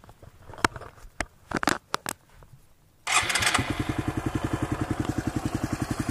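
Suzuki DR200 trail motorcycle engine catches after a few clicks and rustles, then settles into a loud, rhythmic thumping idle close by.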